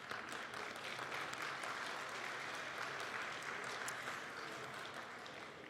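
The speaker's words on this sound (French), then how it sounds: "On peut applaudir, merci." Audience applause at the 19th annual francophone mayor's event in Ottawa, a steady, dense clapping that holds evenly for several seconds with no voices over it.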